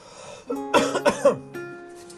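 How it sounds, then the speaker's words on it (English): Three or four quick, throaty coughs in a row, fairly close, followed by a short rough clearing of the throat. "I'm getting a bit of a cough"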